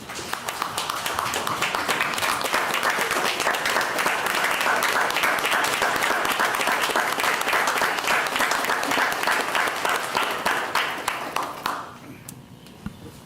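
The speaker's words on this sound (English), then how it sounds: "if you could just join me on your feet and also everyone just and give them a standing ovation this morning" A room of people at a Board of Commissioners meeting rise for a standing ovation, giving loud, dense, sustained applause that holds steady for about eleven seconds before dropping off abruptly into quiet.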